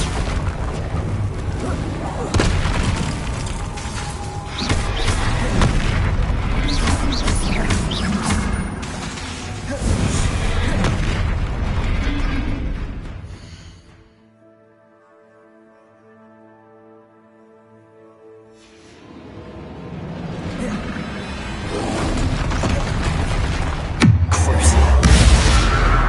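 Spell explosions burst in the Hogwarts Legacy video game, loud and booming amid dense crashing combat noise, with a quieter tonal lull midway before the blasts resume.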